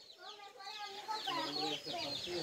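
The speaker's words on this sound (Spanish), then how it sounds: "Miremos al pavo y al gallo, son los mejores amigos." A rooster and a turkey call at a farm, with layered clucking and gobbling calls overlapping in a busy, continuous stretch, fairly faint and distant, with a voice speaking at times.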